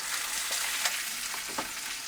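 Food frying in bacon fat in a pan for a British-style breakfast, a continuous sizzling crackle with small pops, steady and close, with no talking.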